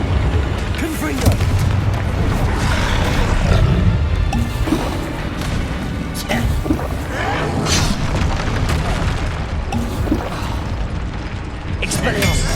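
The Confringo blasting spell in Hogwarts Legacy sets off heavy booms and crashing impacts in loud, continuous combat, with shouted voices over the explosions.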